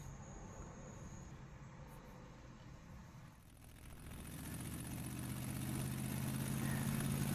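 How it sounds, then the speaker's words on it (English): An International Harvester Travelall truck engine with a newly repaired exhaust idles low and steady, then swells into a louder, deeper rumble as the revs rise over the second half. "The truck sounds a lot better now."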